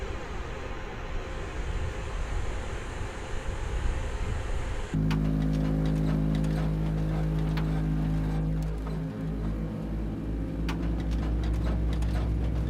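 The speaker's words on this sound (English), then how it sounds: "let's focus on the sound of the engines here" A steady Boeing 787-9 jet engine roar in Microsoft Flight Simulator 2020 with a broadband rush, then a sudden shift to a deep, droning hum with steady low tones that waver slightly.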